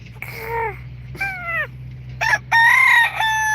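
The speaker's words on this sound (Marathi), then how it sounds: "आमचा आज कोंबडा रे कोकतोय" A rooster in a cage crowing close and loud, several rising and falling calls in quick succession with short gaps between them and a low steady hum underneath.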